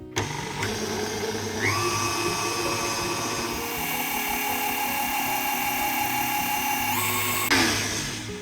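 Electric mixer whirring through chocolate cookie batter, a loud close motor drone that shifts pitch as the speed changes, with a clunk near the end as it stops.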